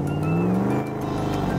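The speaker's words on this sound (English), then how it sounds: "Let's crash through those cubes with our tough monster truck." A tough monster truck engine revs with a steady, loud, rising drone that fills the moment, with no clear crash standing out.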